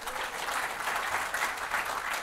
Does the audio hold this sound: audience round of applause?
yes